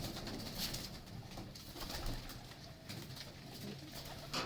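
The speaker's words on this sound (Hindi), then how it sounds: "ओरिजिनल कबूतर।" Pigeons coo softly and repeatedly, low throaty calls overlapping at close range against a faint background hum.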